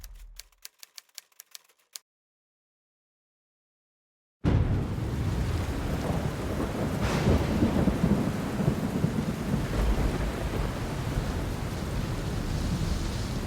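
A thunderstorm over the New Mexico desert: after brief sharp clicks and a few seconds of silence, loud steady rain roars in continuously with rolling thunder rumbling beneath, close and dense throughout.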